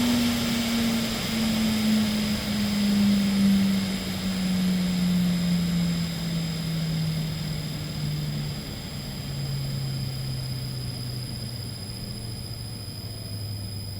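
A small assembled electric fan runs down, its motor hum sliding steadily lower in pitch over about fourteen seconds beneath a constant airy whir, close and fairly quiet with no speech.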